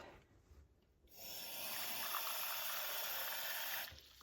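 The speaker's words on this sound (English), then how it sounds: "I'm going to have to refill with water now." Water running from a household tap to refill a clothes iron, a steady close hiss that begins after about a second of quiet and stops abruptly just before the end.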